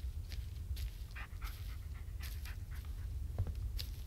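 A dog in the video game Blair Witch pants softly and steadily while searching, with faint ticks and footstep-like taps over a low hum and no talking.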